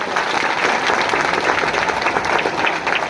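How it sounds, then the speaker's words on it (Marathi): Dense, steady applause from an audience cheering schoolchildren at a Republic Day celebration, many hands clapping loudly and continuously with no voices over it. "आमच्या या छोट्याशा चिमुकल्या मुलांसाठी सगळ्यांनी जोरात टाळ्या वाजवा"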